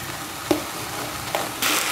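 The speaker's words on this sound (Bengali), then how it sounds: "এখন চালটাকে একটু ভাজবো" Rice being fried in oil in a pot for Sylheti Eid akhni that already holds salted meat: a steady close sizzle with a couple of sharp stirring scrapes and a louder burst of hiss near the end.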